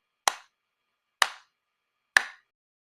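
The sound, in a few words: clapping three beats of a bar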